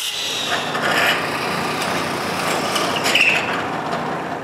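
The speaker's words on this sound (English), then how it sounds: "I cut two thin pieces of maple and drill a hole in their center" Thin pieces of maple are being cut in a workshop, a close, continuous scraping and rasping of a tool through wood with a few brighter squeaks, no talking.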